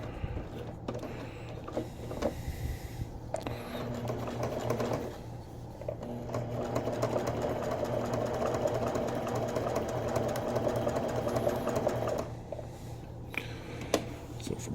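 A sewing machine stitching a shield cover appliqué with loose fabric, humming in long steady runs broken by a short pause, close and moderately loud.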